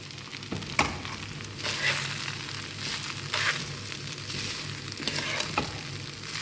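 Rice with turmeric and lemon frying in a pan, a steady close sizzle with occasional scraping stirs and clinks throughout, no voices.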